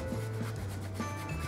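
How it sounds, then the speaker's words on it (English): A chocolate bar being shaved on a hand grater, giving short rhythmic scraping rubs close up, heard alone for a second and a half. "take a little bit of our chocolate bar and our grater right here. I'm just gonna shave"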